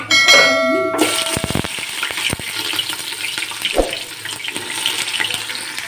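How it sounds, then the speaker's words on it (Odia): Cooked rice drained of its starchy water into a sink, a sloshing pour mixed with running water and clinks of utensils, close and fairly loud, with no speech. "ଏଠି ଭାତ ଛାଣିଛି"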